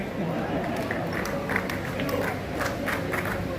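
A large crowd at a children's poetry gathering claps densely and continuously, a dense wash of hand claps mixed with general crowd noise.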